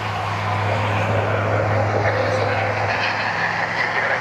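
Airliner engines rumble at Cleveland Hopkins airport as a regional jet taxis out, a steady broadband roar over a low, constant drone that holds evenly throughout.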